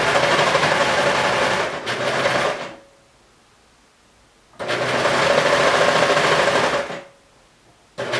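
A regular sewing machine stitches a T-shirt seam in two loud, steady runs of rapid whirring, each lasting about two seconds, separated by a short silent pause.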